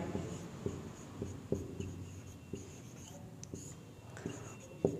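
Chalk or marker strokes on a classroom board during a chemistry lesson, a series of short scratchy taps and scrapes at an irregular pace, close and fairly quiet with no talk over them.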